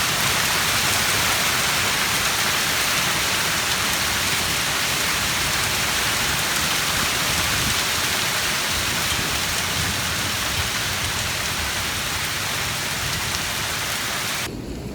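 Heavy rain pours in a dense, continuous hiss with low thunder rumbling underneath, loud and unbroken almost to the end.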